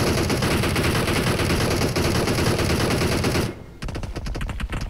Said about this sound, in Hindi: तभी वो बंदा यहाँ पर फायर कर देता है